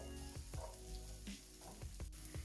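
Onion and garlic sautéing in a pan for a vegan coconut chickpea curry, a soft low sizzle with several quiet utensil knocks and stirs spaced through it, no talk.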